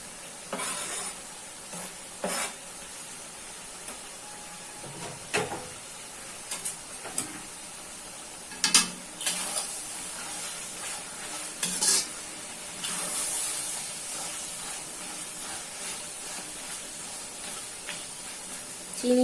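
Square-cut onions frying in oil in a pan for chilli chicken, a continuous quiet sizzle with scattered clinks and scrapes of stirring, steady throughout at moderate distance.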